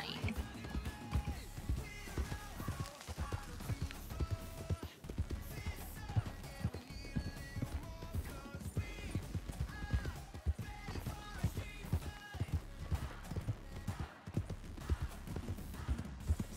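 A red horse's hooves clip-clop steadily in a role-play video game, with an even, continuous rhythm of close, distinct hoof strikes under a person talking.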